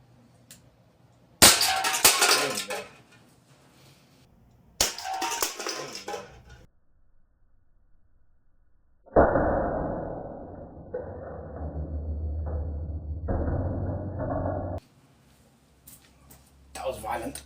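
A .43 caliber Walther PDP fires nylon balls at a target: two sharp, loud shots with ringing tails, then a longer stretch of clattering, rattling impact noise, and another burst near the end; no voices.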